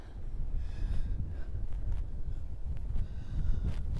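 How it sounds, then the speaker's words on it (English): Brisk winter wind gusting across an open memorial site at sunrise, a close, rough buffeting rumble that rises and falls with a few short gusts and no voices. "that wind is brisk"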